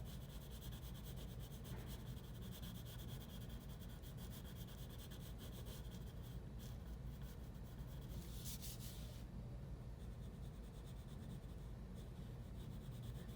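A pencil sketches lines on paper while drawing a metal spoon, making a faint, steady scratching and rubbing that runs unbroken and close, with no talking.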